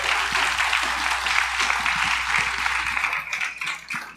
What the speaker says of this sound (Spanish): Vamos, denle ese aplauso al Señor.